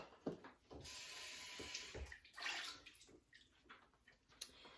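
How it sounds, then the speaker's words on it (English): Tap water runs in bursts as a cup is rinsed at a sink before making kombucha, a close, splashy gush that starts and stops several times with small clinks between. "oh, I need to rinse that out."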